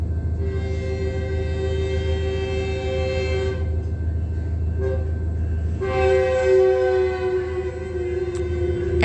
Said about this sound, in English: We're right here in front of the train, and this is audible activity